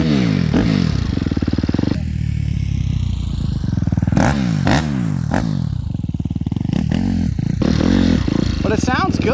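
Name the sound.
Suzuki RMZ250 dirt bike engine running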